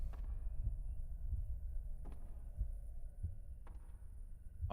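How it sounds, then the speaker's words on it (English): Heartbeat sound effect from the survival horror game Fatal Frame: Mask of the Lunar Eclipse, a low, steady throbbing pulse repeating through the clip with faint hum, no voices. "Yay, heartbeat noises."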